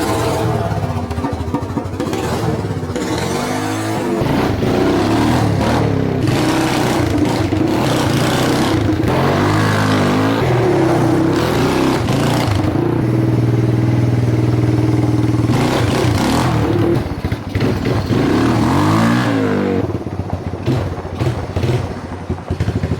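The engine of a restored Yamaha Timberwolf 250 ATV on a test ride sounds loud and close, revving up and easing off in surges, rattling and clattering throughout the run.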